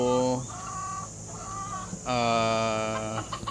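Native chickens on a backyard farm give several loud, drawn-out clucking calls up close, with short pauses between the bursts.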